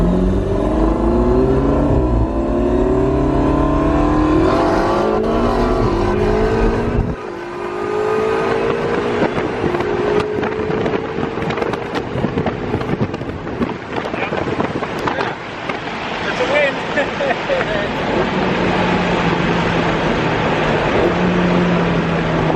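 A twin-turbo Ferrari 488 GTB roll racing on a track, heard from inside with its engine loud and close, revving hard and climbing in pitch through several gear changes over heavy wind buffeting.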